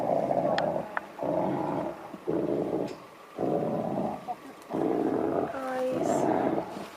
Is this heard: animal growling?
yes